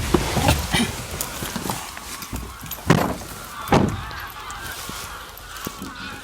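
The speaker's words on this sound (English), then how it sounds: "That's the geese." Geese honking at a wildlife-rich farm reservoir in East Lothian, a few loud sharp calls rising over a steady outdoor background, with faint scattered sounds between.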